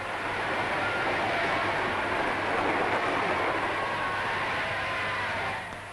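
A special train carrying newlyweds pulls away from a station on a winter evening in 1947, a steady broadband rumble and rolling rail noise filling the whole stretch at even loudness before easing off at the end.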